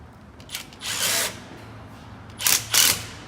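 Power tool tightens a bolt on an A-frame during a trailer tow-bar installation: short, close whirring bursts, one longer run then two quick pulses, with quiet between.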